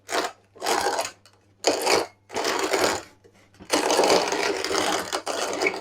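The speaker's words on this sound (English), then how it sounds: "Well, the grinding is slow." A manual coffee grinder slowly crushing beans in several separate bursts of gritty, ratcheting crunch, with short pauses between them and a longer, steadier stretch near the end, close and clear.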